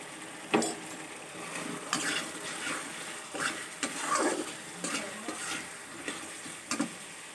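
Turmeric, cumin and chili powder being sautéed in a pan for a pabda fish curry with potato and eggplant: a low, steady sizzle broken by repeated scraping strokes and light spatula knocks, close and moderately quiet.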